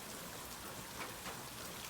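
Steady rain pours down at night in a broad, even hiss of drops on surfaces, close and continuous with no voices and no pauses.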